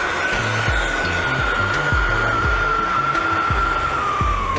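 A lit gas torch burns steadily while soldering a socket fitting onto copper plumbing pipe, giving a constant close roaring hiss with a faint steady whistle and soft low pulses underneath, no voices.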